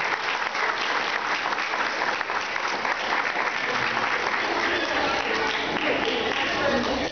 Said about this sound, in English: Round of applause, everyone. Round of applause.